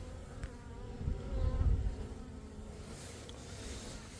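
Honeybees buzz steadily at a hive that survived the winter, on an early-spring day. The humming is soft and continuous, swelling briefly louder in the middle, with no talking.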